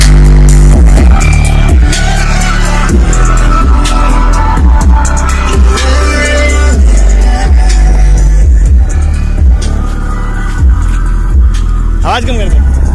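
Ritz speakers at high volume during a loudness test blast booming bass-heavy music with hard thumping beats, very loud and close, with voices mixed in.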